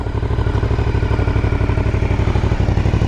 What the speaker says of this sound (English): There's that fancy exhaust on there. That sounds good.